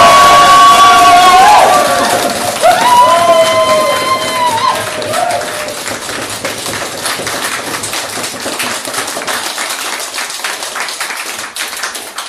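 Wedding guests cheering and clapping for the newlyweds, a loud crowd roar with whoops over music or tones at first, then settling into sustained applause that slowly fades.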